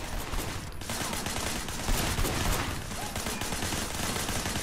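Gunfire from behind a barricade in the Sleeping Dogs game, a dense rattle of shots over a constant noisy din, with a couple of louder bursts near the middle.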